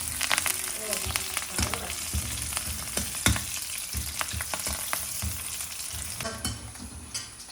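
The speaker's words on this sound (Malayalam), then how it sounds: "ഇനി നമുക്ക് സവാള ഇടാം. പത്തലമുളക് ഇട്ടു. ഇനി കറിവേപ്പില ഇട്ടു. ഒന്ന് ഇളക്കി കൊടുക്കുവാണ്." Onions, chilli and curry leaves fry in a pan with a continuous close sizzle, broken by scraping and clinking from repeated stirring.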